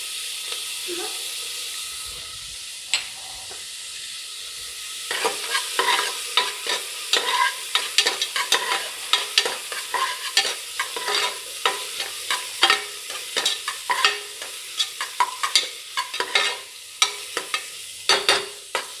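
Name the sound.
onions frying and stirred with ginger garlic paste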